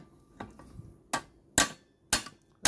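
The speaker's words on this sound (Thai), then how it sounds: "ต้องหาค้อนที่มันมีน้ำหนัก นิดนึงนะครับ เดี๋ยวจะได้ดันได้ เคาะได้ง่ายนะครับ" Several sharp hammer strikes ring on a valve rocker arm of a Honda GX35 grass trimmer engine, starting with light taps and building to four louder, evenly spaced blows, close by.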